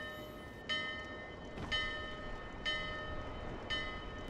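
A large bell in the Dark Souls 2 video game tolls four times at even intervals, each strike ringing out with a bright metallic tone and long lingering decay over a low ambient background.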